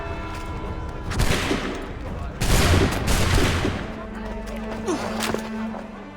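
A musket volley erupts in the Assassin's Creed 3 video game, two loud crackling bursts of massed gunfire, then a lingering rumble with a low tone and scattered noise.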